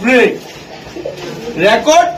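Giribaz pigeons coo in short bursts at close range, two clear calls with a pause between them, loud and near.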